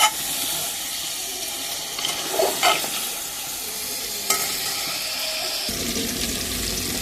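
Fish pieces frying in hot oil in a curry pan, a continuous close sizzle and hiss broken by scraping stirs and utensil clinks, rising to a harsher, louder fry near the end; no speech.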